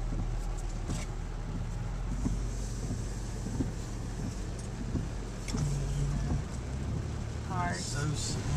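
Cars creep slowly along a road flooded during the May 2010 Nashville flood, a steady engine hum and wash of water with wind buffeting the microphone throughout.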